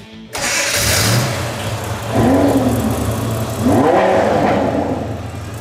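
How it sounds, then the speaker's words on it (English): A car engine starts abruptly, then revs in two rising bursts over a steady idle, close and loud, with other engine rumble layered beneath at a hot rod show. "Gentlemen, start your engines."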